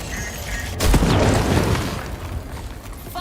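A Black Rock Launcher fires in the Alan Wake 2 video game, giving one loud booming blast that rings out and slowly fades, with no voices over it.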